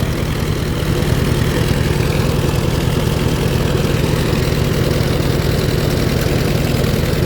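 Farm tractor engine idling steadily just after starting, a close, loud, even low rumble with rapid regular firing pulses throughout, no talk.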